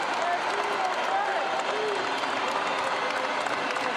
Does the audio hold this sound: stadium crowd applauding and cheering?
yes